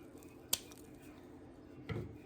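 Scissors snipping off zip tie ends, two short crisp cuts about a second and a half apart, close and fairly faint against quiet room background.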